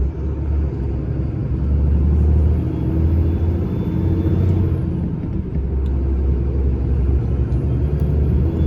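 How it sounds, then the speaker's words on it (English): HGV lorry labouring up a steep hill on an Irish backroad, with a deep, steady engine rumble that swells and eases under load, heard from inside the cab with no talk. "Come on, ran out of power. Stop wheel spinning."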